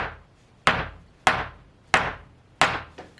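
A hammer whacking a hard sweet treat: four loud, evenly spaced thwacks, each sharp strike ringing briefly before fading, with no talking between blows.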